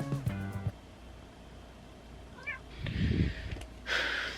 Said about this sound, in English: The cats are bickering on the table.